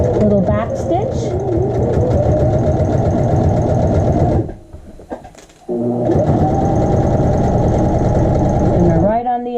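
A sewing machine runs steadily while edge stitching a child's shorts pocket, a continuous close mechanical whir that pauses briefly for a short back stitch before resuming, with a voice talking over it.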